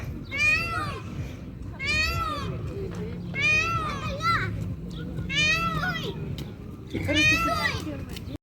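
Large, high-flying birds that perch on rooftops give five drawn-out, cat-like mewing calls at steady intervals, fairly close, under the background chatter of children's voices.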